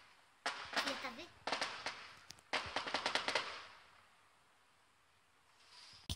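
Distant fireworks pop and crackle in several rapid bursts, followed by a quieter stretch with a voice speaking faintly.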